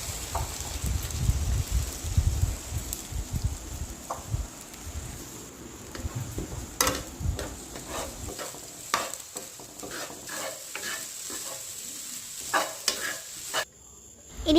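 Egg batter for egg bhurji stirred in a hot pan, steady sizzling and frying crackle with scraping stir strokes running throughout, close and fairly loud.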